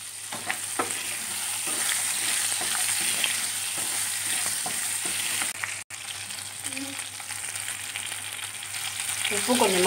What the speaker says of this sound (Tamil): இப்போ எண்ணெய் விட்டுக்கிட்டு கொஞ்சமாக ஜீரகம் போட்டுக்கிட்டேன், கடுகு போட்டுக்கிட்டேன், பெருங்காயமும் போட்டுட்டேன்.